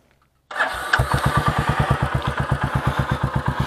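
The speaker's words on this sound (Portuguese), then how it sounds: "Vamos ligar o motor dela." Silence, then a Royal Enfield Meteor 350 motorcycle engine cranks and catches, settling into a rapid, even chugging idle close by.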